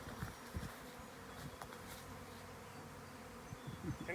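A swarm of honey bees gathered near a tree and a hive box fills the air with a steady, dense buzzing, close by and unbroken, with individual bees droning past now and then.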